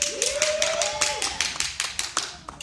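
Hands clapping in a steady rhythm of about a dozen sharp, close claps, with a voice briefly singing over the first second.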